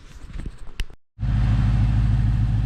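A motorcycle's engine runs steadily and close by, a loud, continuous low rumble that starts abruptly after a brief silence, following some earlier clattering handling noises.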